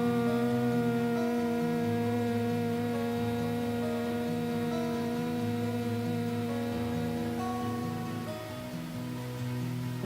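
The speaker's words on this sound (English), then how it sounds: "I want you to listen to your mind and hum with me" Sustained group humming during a meditation, several steady harmonic voices holding tones together for about ten seconds, shifting pitch slightly near the end, with no spoken words.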